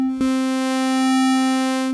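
A sustained note from Ableton's Wavetable synthesizer holds a steady pitch while its tone slowly shifts in brightness and timbre, cycling from sine through triangle and sawtooth to square, starting after a brief click.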